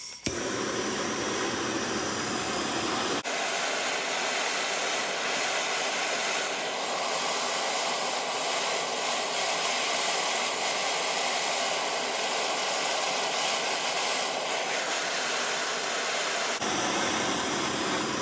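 A torch roars loud and steady, close by, as a metal hook clamped in a vise is heated red hot, with brief cut-offs at start and end and no talking.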